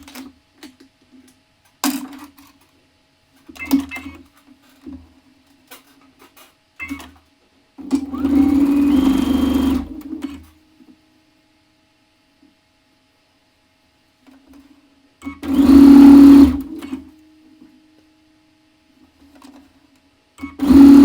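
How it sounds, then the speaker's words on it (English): A sewing machine stitching quilt rows together in short bursts: brief clicks and hums, then two longer runs of steady whirring separated by quiet pauses. "I will sew the rows together"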